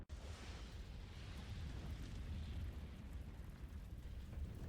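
Tanker explosion in the Resident Evil Outbreak video game: a loud, sustained rumbling roar with heavy low-end boom and crackling fire, continuous and dense throughout, no voices.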